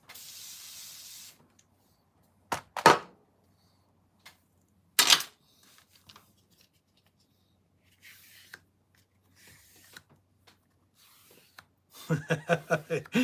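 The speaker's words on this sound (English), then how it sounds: "spray it with some silicone" Several short hissing bursts of silicone aerosol spray on handmade drag sinkers, separated by quiet pauses, followed by faint handling noises and a brief voice at the end.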